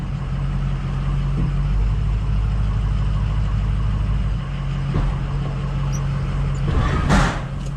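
A diesel plow truck idles after a cold start boosted by a lithium jump pack. The loud, steady, close rumble runs throughout, with a brief burst of extra noise near the end.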